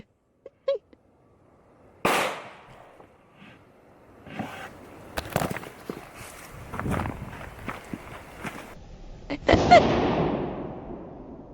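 Hi-Point pistol fired at a concrete target: a few sharp, loud reports spaced several seconds apart, the last one followed by a longer fading tail, with handling noise in between.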